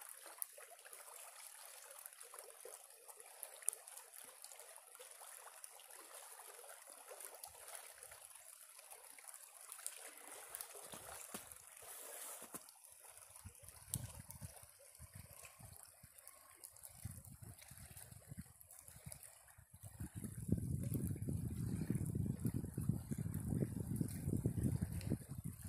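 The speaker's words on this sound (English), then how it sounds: "so that you can hear the creek sounds." Soft, continuous trickling and babbling of water in a snowy creek, faint at first, then a fuller gushing flow swells up near the end.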